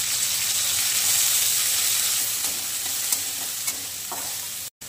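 Peas tipped into a hot pan with mustard seeds and chillies sizzle loudly and steadily, with a few stirring scrapes through the hiss, before a brief cut at the end; no one speaks.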